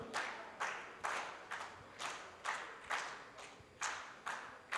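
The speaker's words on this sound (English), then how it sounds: "Can we have a 2 snap and 1 clap together" An audience at an iron ore industry conference keeps a rhythmic pattern, with each group of snaps and claps landing as a sharp burst about every half second, fairly faint and roomy, with no talk.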